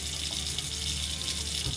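Kitchen faucet in a Grand Design Reflection 150 Series fifth-wheel RV running as pink antifreeze runs out, a steady close hiss of rushing water with a small gurgle near the end, no voices.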